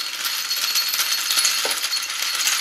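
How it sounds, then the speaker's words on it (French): Small metal e-cig parts, just lifted out of water after cleaning, are shaken to drain. They make a continuous close, bright jingling rattle with one small knock partway through. "On égoutte un peu le matos là qui sort de l'eau."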